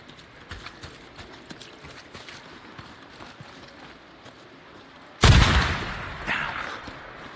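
Horse hooves clop steadily in the open-world game Days Gone, a faint uneven patter under game ambience before a sudden loud burst cuts in near the end.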